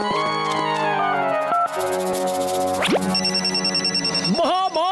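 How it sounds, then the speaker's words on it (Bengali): A telephone helpline bell rings in a Motu Patlu cartoon, with tonal ringing and cartoon sound effects including a rising boing-like swoop, all under continuous music and voices. "আপনি রিবনটা কাটতে না কাটতেই আর হেল্পলাইনের বেল বাজলো"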